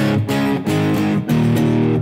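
Electric guitar chords played through channel 2 of an OD100 amp with a mild crunchy overdrive, strummed in a few loud, sustained hits with no voices.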